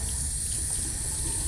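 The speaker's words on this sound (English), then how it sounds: "And you're going to turn on the water at a temperature you're comfortable with." A sink tap running steadily, water streaming into a basin before handwashing, a constant close hiss with no voices.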